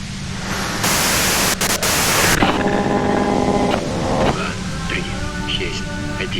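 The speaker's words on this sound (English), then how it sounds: "you can do it through the white noise." White noise static from the video game Disco Elysium, a loud broadband hiss that cuts in for a couple of seconds and then gives way to a voice and tonal sounds that carry on underneath.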